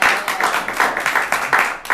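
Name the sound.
audience applause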